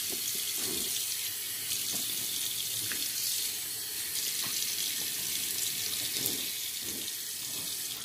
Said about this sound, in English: Now I'm going to rinse off my face, dry it off